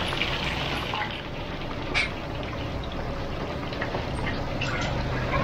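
Fish, roughly 4–5 ounces each, fry in hot oil with a dense, continuous sizzle and crackle, close and steady for several seconds, with no talking over it.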